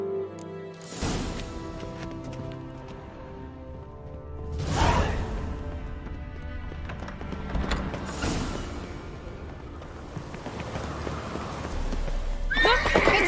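A horse in The Witcher 3 neighs and whinnies near and loud, then gallops with steady clip-clopping hooves, a second loud whinny breaking through partway, with no talking.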